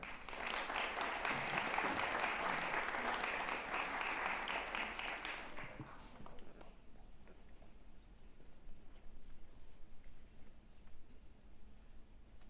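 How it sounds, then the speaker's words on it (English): Audience applause welcoming the chairperson of the Bongo TAT club at the International School of Tanganyika, loud dense clapping for about five seconds that then fades to a faint patter. "Round of applause."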